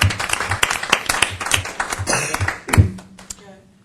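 An audience at a regional advisory council meeting claps in a short burst of applause, with voices talking over it before it fades out.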